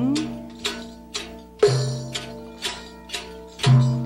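Low booming frame drum strokes recur about every half second, resonant and close, with a sustained drone underneath throughout.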